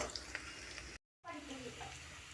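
Tomatoes hit hot oil in a pan already holding browned onions and green chillies, giving a loud, continuous frying sizzle broken by a brief silent gap before the hiss resumes.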